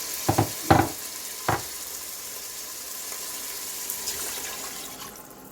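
Beef rice pilaf with tomato sauce and a bay leaf being stirred in an Instant Pot, a few short scraping knocks at the start followed by a steady sizzling hiss, close and alone.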